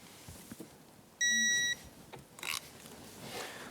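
A digital torque wrench set to 36 foot-pounds, used on a Yamaha YXZ1000R tie rod end, gives one loud, steady beep of about half a second amid quiet workshop clatter.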